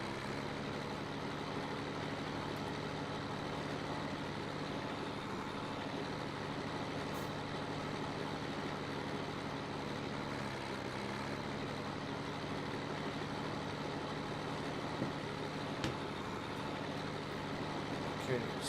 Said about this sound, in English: what I'm gonna try now is gonna be parking in reverse with the trailer there